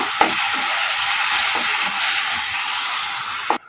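Ripe tomatoes sauté in a pan for Tamil-style tomato rice, giving a loud, steady hiss and sizzle that runs unbroken for several seconds, then cuts off sharply near the end.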